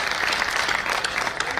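Audience applause at a mushaira poetry gathering, dense and steady clapping from a crowd throughout the short stretch, fairly loud and close, with no speech over it.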